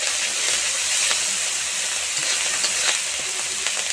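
Turmeric and spices fry in oil in a pan for a wedding-style cabbage curry, a bright, continuous hiss with faint stirring scrapes, close and steady, nobody talking.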